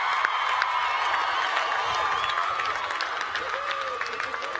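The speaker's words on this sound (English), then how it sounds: "Give yourself another round of applause." Graduates and guests applaud at a Cal Poly commencement ceremony, a steady wash of clapping with scattered cheers and whoops from a large crowd, with a voice faintly audible beneath.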